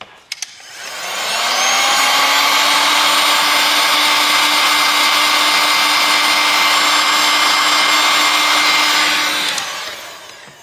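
A heat tool blows hot air onto a Nokia G310 5G phone during screen and charging port repair, a loud steady whooshing drone close by that starts abruptly and runs unbroken for about nine seconds before cutting off.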